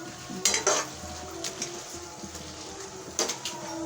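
A spoon mixing cooked tomatoes in a pan for aloo anda salan, with a low sizzle beneath a few bursts of metallic scraping and clinking up close and no speech.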